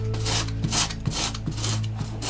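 100 grit sandpaper scrubbed against fabric to weather it, rhythmic rasping strokes about every half second, close and steady over a low background hum.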